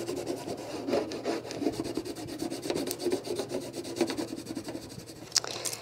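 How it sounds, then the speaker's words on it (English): Popsicle stick rubbing vinyl transfer tape onto a lunchbox, close repeated scraping strokes in a quick irregular back-and-forth rhythm. "you're going to take that popsicle stick and just rub"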